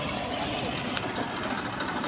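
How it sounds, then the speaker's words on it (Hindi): A tractor engine running in a village farm field, a steady mid-pitched chugging rumble heard close and continuous, with faint background sounds and no clear talk. "इस तरह से ट्रैक्टर आ चुका है"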